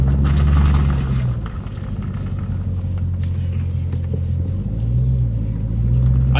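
A car launched hard at high revs, its engine roaring and rumbling close up as the tires lose traction, the revs dipping and then climbing again.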